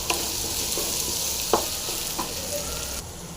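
Chopped onions fry in oil and get stirred in a pan, a continuous sizzle with a few distinct spoon scrapes and taps against the metal, close up and without speech.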